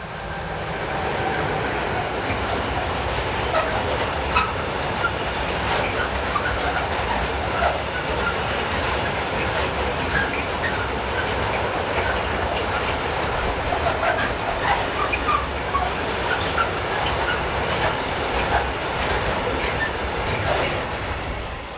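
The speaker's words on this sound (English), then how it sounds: "as 145054 heads west with this loaded hopper train" A DB Schenker class 145 electric locomotive hauls a loaded hopper train westward on a German main line, a loud, continuous rumble with rhythmic clickety-clack of wagon wheels close by and no talk.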